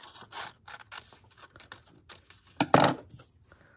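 Scissors snip through paper in a quick series of crisp cuts, close and fairly quiet, with no talking.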